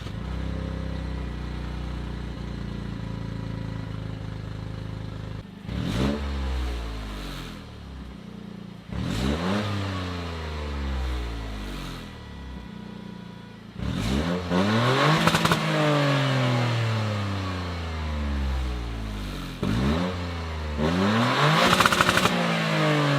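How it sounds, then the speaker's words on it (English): Toyota GR Corolla with its stock triple-exit exhaust cold-starts and is revved several times, loud nearby engine bursts rising and falling between steady idle, no talking. "Let's get a nice cold start,"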